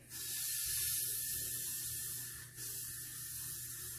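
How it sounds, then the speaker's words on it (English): A long hissing spray from an aerosol can of Got2b hairspray, close and steady, with a brief pause before spraying resumes. "I'm just gonna seal it in there with some Got2b spray."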